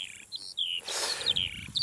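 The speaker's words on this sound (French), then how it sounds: "Elle est forte, l'alouette" Skylark singing, a rapid run of high, thin chirps and trills in short bursts, close and clear against a quiet background.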